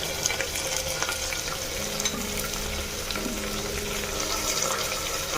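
Onions frying in a pan for a desi-style Odia dhaniya chicken curry, giving a steady, moderate sizzle that stays broad and even throughout, with faint stirring clinks and scrapes over it.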